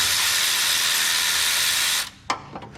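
Compressed air blasts steadily into the coil pack well of a Subaru Tribeca during a valve cover gasket job, a loud close hiss lasting about two seconds before cutting off, followed by a couple of short puffs.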